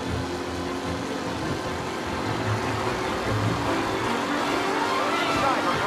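Race cars in Mafia Definitive Edition roar steadily through the final lap, a continuous engine drone under a commentator's voice.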